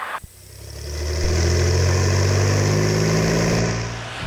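A Cessna Skylane's piston engine on the runway builds from a quiet start into a steady, loud droning roar that holds before easing slightly, heard from inside the aircraft with no talking.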